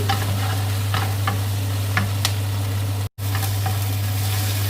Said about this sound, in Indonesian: Terus kita aduk sampai merata ini, sampai airnya udah mulai mengering